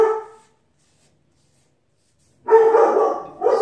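Pet dogs bark indoors in bursts: a brief yelp at the start, a pause of silence, then a louder run of barking near the end, fairly close and with no talk.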